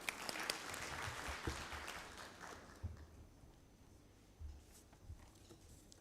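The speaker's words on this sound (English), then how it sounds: "A round of applause once again." Scattered applause from an audience at a public service commissions general assembly in Kenya, fairly distant and thinning out after a few seconds, with a few stray claps and thumps afterward.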